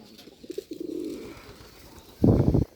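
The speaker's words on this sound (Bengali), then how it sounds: "সুন্দর এক জোড়া কবুতর দেখুন অনেক সুন্দরভাবে ডাক দেয়" A pair of Rajshahi Giribaz pigeons cooing up close: soft low throaty coos roll along, then one louder, fuller coo swells near the end.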